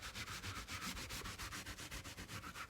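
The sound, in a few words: scrubbing foam off an RV ceiling with a rag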